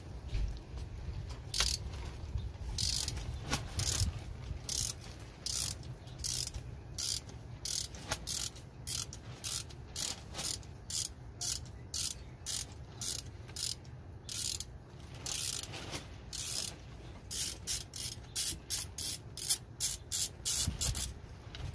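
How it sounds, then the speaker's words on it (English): A ratchet turning a 16 mm spark plug socket on a long extension to remove spark plugs from a 2005 Toyota Prius, giving rapid, close, dry clicks in repeated bursts with no talking. "I'm gonna be using a 16 mil spark plug socket with a long extension to remove the spark plugs"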